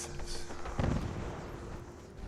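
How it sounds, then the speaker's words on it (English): A few muffled, distant gunshot booms from the video game Fallout 4 echo faintly, one heavier thump standing out against a quiet background hum. "there's definitely gunfire going on over there"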